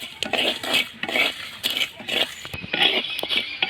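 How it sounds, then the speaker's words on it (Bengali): Spices dry-roasting in a clay wok while being stirred, giving a steady run of scraping, rustling strokes and light clinks from the utensil against the pan, close and moderately loud with no talk. "আমি এইভাবে নেড়ে চেড়ে শুকনো খোলায় ভেজে নেব"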